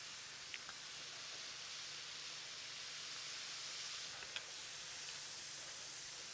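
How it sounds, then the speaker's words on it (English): Onions caramelizing in olive oil in a very hot pan give off a steady, soft sizzle and hiss that runs throughout, with a few faint clicks and no talking. "And they are caramelizing fast because my pan was really hot."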